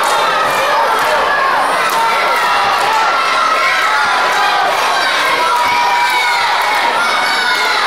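A loud wrestling crowd at a heavyweight championship cage match cheers and shouts continuously, a dense roar with scattered voices rising above it.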